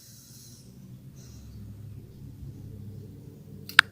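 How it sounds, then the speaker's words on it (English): A person takes a slow, deep breath, a soft airy inhale and exhale close to the microphone in a quiet room, ending with a sudden sharp click. "let me take a deep breath"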